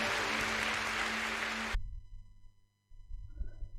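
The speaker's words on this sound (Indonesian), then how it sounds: "Berikan tepuk tangan buat Tuhan kita yang baik." Applause from a church congregation during an online Sunday worship service, a dense steady clatter of clapping that cuts off abruptly partway through, leaving a low quiet room hum.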